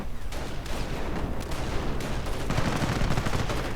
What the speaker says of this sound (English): Half-track machine gun fire.